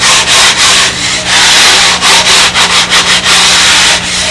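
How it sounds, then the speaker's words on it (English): Sanding belt worked over a wooden model aircraft fuselage part, loud close rasping strokes in a rapid back-and-forth rhythm with brief pauses between passes. "Those sanding belts are a really good trick."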